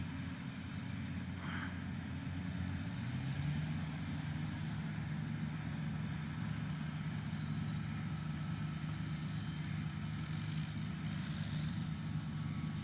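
Tractor engines drone heavily under load, straining to pull a trolley of paddy stuck in a wet field. The low, steady rumble holds throughout, with a slight rise in engine pitch partway through and no voices.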